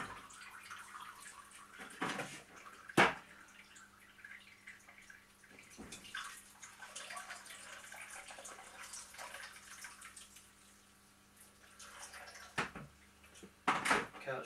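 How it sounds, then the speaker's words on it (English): Boiling water pours over drained rice in a sieve in a home kitchen, a faint steady trickle broken by a few louder clanks of the sieve or pan. "Rinse it with boiling water."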